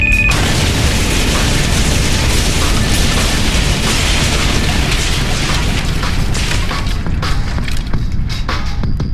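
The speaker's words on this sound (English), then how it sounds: "the entire ionized fusion reactor cannon, along with Corazia and its research, is blown to shit" A massive fictional explosion of an ionized fusion reactor cannon roars as a loud, continuous rumbling blast with crackling debris, sustained for several seconds and slowly thinning toward the end, with no voices.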